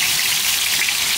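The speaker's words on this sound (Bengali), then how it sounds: "তেল গরম হয়ে গেছে, এখন পেঁয়াজটা দিয়ে দেবো।" Onion frying in hot oil for an egg dish, a steady close sizzle with bright crackling hiss running throughout without a break.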